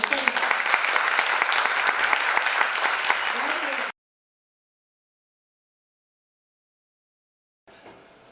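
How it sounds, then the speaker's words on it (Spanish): An audience gives a dense, loud ovation for Verónica Ochoa at an interview event. The clapping cuts off abruptly into silence, then faintly resumes near the end. "un aplauso para Verónica"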